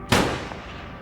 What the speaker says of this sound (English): Someone shoot Goran?